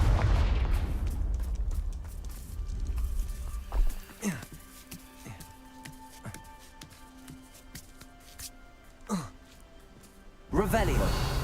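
Confringo spell explosions in the Hogwarts Legacy video game: a run of sharp popping blasts and crackles at uneven intervals, ending in a louder burst, with talk heard in the mix.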